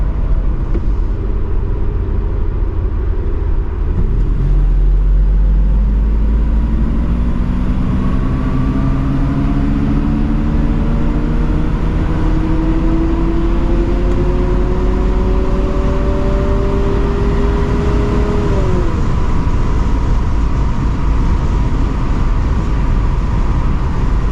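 A 1970 Mercedes-Benz 280SE 3.5 Cabriolet accelerating, recorded from inside over heavy road and wind rumble, the engine note climbing smoothly through gears with rising whines before easing off, no talk.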